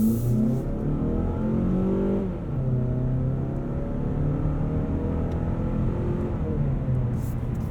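A 2019 Mazda3 Hatchback AWD with an automatic transmission pulls away steadily, a loud, smooth engine drone rising in pitch and then dropping as a gear shift comes through seamlessly, heard from inside the cabin with no talking.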